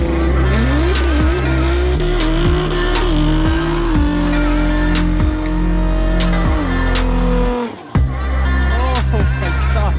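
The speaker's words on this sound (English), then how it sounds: "I've never seen an R35 GTR burnout before, so this is gonna be really sick." A Nissan R35 GTR doing a tire burnout: loud sustained tire squeal over a high-revving engine, with repeated rev swings and a brief dip before the squeal resumes, close and dominant.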